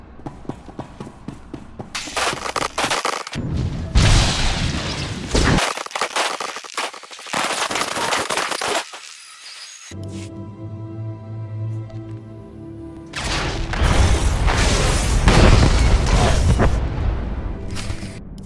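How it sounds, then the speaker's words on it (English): Airstrike explosions hammer a Republic base in Star Wars: The Old Republic, heavy booming blasts in loud bursts broken by sudden silences and a stretch of quieter humming tones before more explosions roar back. "The airstrike destroyed the Republic's armor depot."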